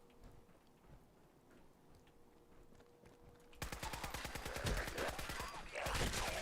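A plasma grenade detonates in Fallout 4, and a sudden burst of rapid crackling, popping bangs follows a quiet stretch, with a second loud flurry near the end.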